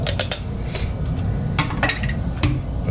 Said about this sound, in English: Now bring it over and sieve it through to catch any bigger spots that didn't grind up.